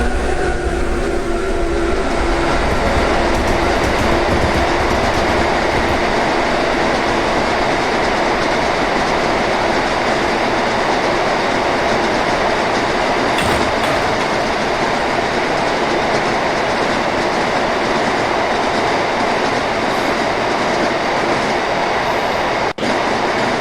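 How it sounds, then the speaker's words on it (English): Pair of locomotives hauling an aggregates freight train through Brimsley, a loud, sustained roar of engines and rolling wagons with steady rail rumble and clatter from start to finish, close by. "Our final shot of the aggregates see the pair passing through Brimsley en route to HW."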